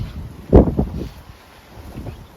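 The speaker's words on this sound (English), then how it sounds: "the wind's getting up now this afternoon" Wind blowing outdoors in a garden. A short gust buffets the microphone with a rough, low rush, then fades to a softer breezy hiss.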